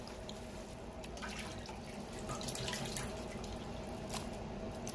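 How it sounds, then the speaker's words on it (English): Meat being rinsed under running hot water with salt in a kitchen sink while preparing party egusi soup, a steady close wash of water and splashing with dripping throughout, no talk. "So I've used hot water to wash it with salt. So I'm going to wash it again and then season it."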